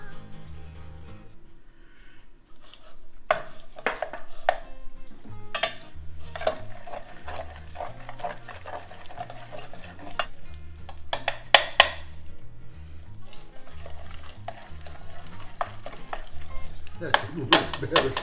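A spoon stirs and beats an egg into cream puff dough in a pot, with repeated scraping and clinking strokes and soft sticky thuds, while people talk quietly in a kitchen.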